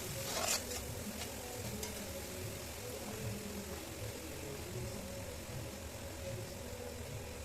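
Ground cumin and garam masala being stirred in a hot pan for a chicken and mustard greens dish, a steady sizzle with scraping throughout and a sharper clink near the start.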